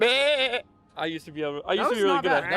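A person imitates a goat call with a short, wavering, bleat-like voiced cry, followed by close conversational speech.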